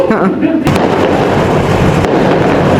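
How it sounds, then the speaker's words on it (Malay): Fireworks bursting outside, watched from a 13th-floor room, make a dense, continuous crackle and rumble of overlapping booms with a sharper pop near the start, loud and steady through the whole stretch. "View bunga api dari tingkat 13."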